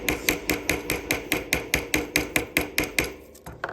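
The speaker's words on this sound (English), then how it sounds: "continue to hammer down my rivet" Rapid, evenly spaced metallic hammer taps, about four per second, striking a small wire rivet close up, slowing slightly at the end.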